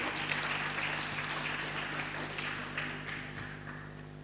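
A press-week audience applauds a newly sworn-in union official, fairly faint, distant clapping over a steady electrical hum from the hall's sound system.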